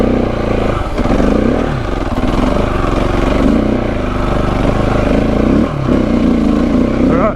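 A KTM 690 Enduro motorcycle engine droning loud and steady up close as the bike slides through mud, the thumping single revving and dipping briefly with a clattery edge.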